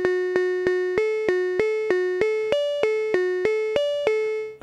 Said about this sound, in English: And I can also play traditionally with an arpeggiator.